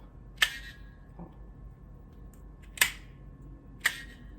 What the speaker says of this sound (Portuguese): Vou selar com o isqueiro.